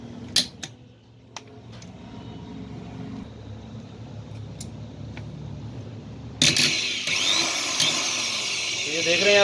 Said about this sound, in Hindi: ड्रिल मशीन का। अब जैसे ही मैं इसको पावर दूंगा ये चलना शुरू हो जाएगा।